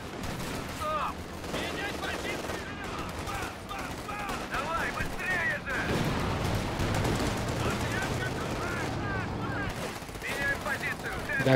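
Bursts of gunfire and machine-gun fire rattle continuously through a Company of Heroes 2 battle, with overlapping shots and rumbling explosions at moderate loudness under faint voices.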